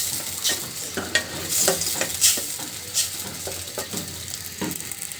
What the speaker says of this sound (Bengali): দিয়ে এখন মশলাটা খুব ভালোভাবে কষিয়ে নেব।